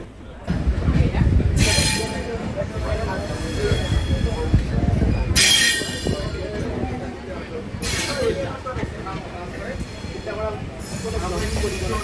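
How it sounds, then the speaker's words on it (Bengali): The Shantiniketan Express pulls into Bolpur station with a sustained rumble of wheels and carriages. Sharp bursts of high squealing repeat at intervals, and people talk over the noise. "এই আমাদের ট্রেনটা বোলপুর স্টেশন চলে আসলো"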